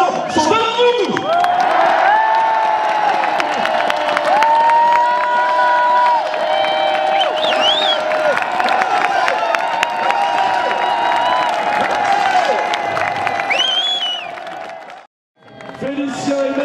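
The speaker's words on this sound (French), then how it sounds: "ça bouge dans tous les sens, ça crie, ça applaudit, ça virevolte, ça s'enflamme" A festival crowd at the national accordion festival in Termignon cheers, shouts and whoops loudly and continuously, with excited children's voices prominent, before the noise cuts out briefly and then resumes.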